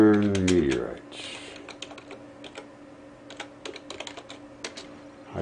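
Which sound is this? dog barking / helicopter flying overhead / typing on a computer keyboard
typing on a computer keyboard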